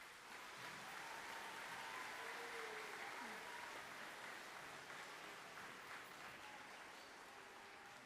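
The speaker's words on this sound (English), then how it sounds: "Let's give one last round of applause." Sustained applause fills the room at an awards day, a dense even wash of clapping from a crowd that keeps going steadily throughout.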